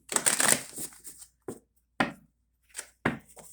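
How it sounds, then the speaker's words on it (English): Tarot cards being shuffled in a few quick papery bursts separated by short pauses, close by and fairly quiet. "One more shuffle for Aries."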